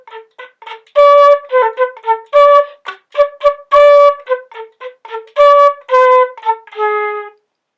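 A solo flute line for beatbox flute, with breathy aeolian tones mixed into short detached notes and a few longer held ones, played close and clear in a bouncing rhythm with no beatbox underneath.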